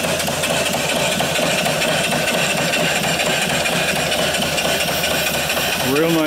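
A small model steam mill engine with a flyball governor runs steadily with a rapid, regular chugging rhythm, close and continuous, with a faint rising whine at the end.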